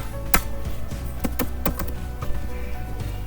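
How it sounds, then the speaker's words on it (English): A computer keyboard is typed on in a quick burst of crisp, close clicks, irregular keystrokes spaced over a few seconds with a soft background hum. "So I'll type cake shop"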